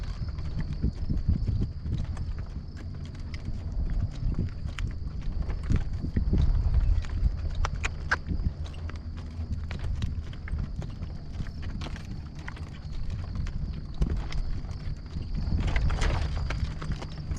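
A horse walks on firm ground in blustery wind, its hooves clip-clopping in a steady four-beat rhythm, close and fairly loud, with wind noise underneath and no talking.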